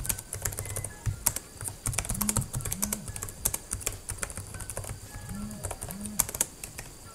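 Fingers type quickly and steadily on a budget laptop keyboard, such as a Jumper EZbook X4, Teclast F7 or Yepo 737A, making a soft, close run of clicky keystrokes with no talking.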